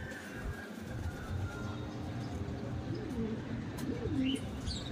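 Racing pigeons arriving from a training toss, with soft cooing and scattered chirps close by over a steady background murmur, a few brief calls rising near the end.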